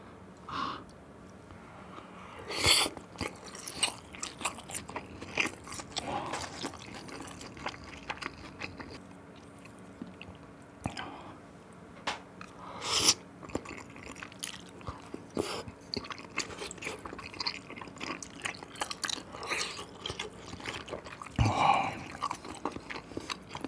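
Spicy tteokbokki with gopchang being bitten and chewed up close, soft wet mastication broken by occasional louder crunchy bites, fairly quiet, no talking.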